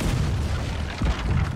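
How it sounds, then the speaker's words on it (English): Cannon fire and impacts aboard a ship in the naval battle game Blackwake, heavy low booms rumbling steadily with a stronger blast near the end, no talking. "Oh, they just broke one of our cannons"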